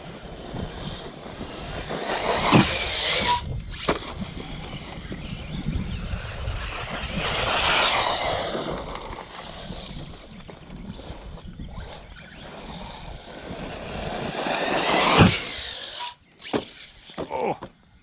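An Arrma Senton RC truck driving, its small electric motor whining and surging in several revving bursts, with rougher tumbling and bumping sounds between them and no voices.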